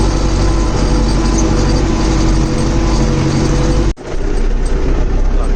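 An MTZ tractor, one reported broken down, drives between fields after disking, its engine a loud, steady, close drone that drops out briefly near the end before resuming.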